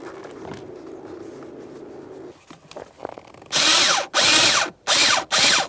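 A power drill drives three screws into a blower motor on a 2004-2012 Chevrolet Colorado, its loud whirring bursts coming in four closely spaced runs after quiet handling noises.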